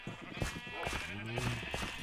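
Sheep bleat in Minecraft survival mode, a wavering tonal bleat near the middle, with soft footstep-like clops and a faint voice around it.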